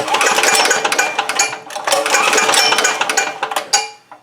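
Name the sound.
168F diesel engine cranked over with compression release held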